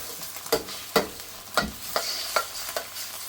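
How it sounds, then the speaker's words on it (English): Egg scrambled in a pan for Chinese takeaway egg fried rice, with onions nearby, is swirled in a sizzle as about seven sharp scraping strokes come in a roughly regular rhythm, close up with no talking. "Get it to cook by swirling it around the pan."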